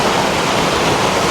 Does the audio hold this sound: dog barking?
no